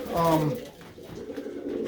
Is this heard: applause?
no